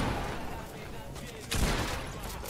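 A sudden burst of rapid gunfire from a video game cuts through dense, noisy background action, then keeps rattling on.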